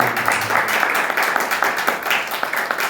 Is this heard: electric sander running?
no